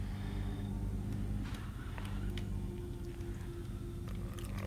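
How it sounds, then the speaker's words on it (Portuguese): Car engine in the zombie game State of Decay, a low steady idle rumble with faint clicks and rattles on top, moderately quiet and without talk. "O barulho do carro não está assim muito, muito bom."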